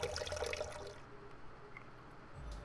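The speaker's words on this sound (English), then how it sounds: "Water is closing on me from all sides, leaving me pressed in between." Water rushing and swirling through a flooding passage in the video game Sound of Drop: Fall Into Poison, a loud, dense wash at first that settles into a quieter, steady flow, with no voices.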